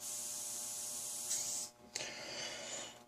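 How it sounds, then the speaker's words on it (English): Airbrush spraying out cleaner during a cleaning flush, a steady loud hiss of air for about a second and a half, then a short break before a second hissing burst. "Spray that out."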